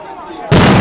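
Firecrackers exploding during a night street march in Donetsk, Ukraine, as pro-Russia groups attack a rally: one sudden, loud, sustained blast that cuts in after quieter ambience with faint voices.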